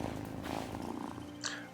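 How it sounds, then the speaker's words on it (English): A cat in the video game Wylde Flowers purrs in a soft, continuous low rumble, close and fairly quiet, with a faint brief chirp near the end. "Listen to that purr."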